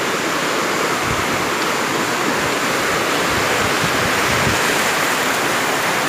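A stream rushes beneath the MIDIM Bridge, a loud, dense and constant roar of flowing water that fills the whole stretch without pause and without any voices.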